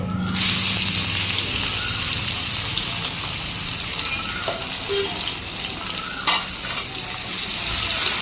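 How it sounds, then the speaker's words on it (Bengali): Chopped onion drops into hot oil with cloves for a duck meat curry, setting off a loud, continuous sizzle and crackle with occasional stirring and sloshing noises. "এবার আমি দিয়ে দেবো পেঁয়াজ কুচি"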